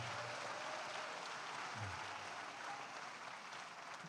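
A crowd at an outdoor day-of-action rally applauds and cheers for young people, a dense, steady wash of clapping held at a constant level throughout.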